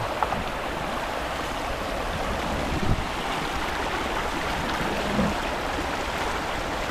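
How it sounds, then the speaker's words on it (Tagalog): A strong current rushes through a rain-flooded river, giving a steady broadband wash of moving water that stays fairly close and constant, with no voices over it. "Ang lakas ng agos."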